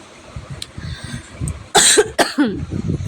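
A few sharp, loud coughs in a quick burst, standing out against a quiet background murmur.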